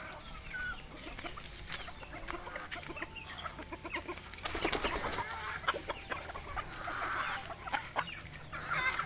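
Chickens cluck steadily and quite close by a homemade DIY coop, with scattered bird calls, brief flurries of activity and faint background noise throughout.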